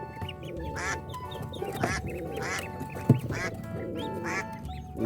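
Several ducks quacking in repeated bursts, close by, over a steady background hum with a brief knock partway through.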